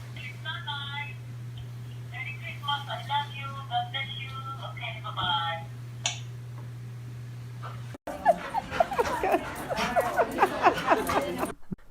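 A dog whimpers with high yips and then barks, close and fairly loud, first over a steady electrical hum and then in a more excited stretch of overlapping yelps, with voices underneath.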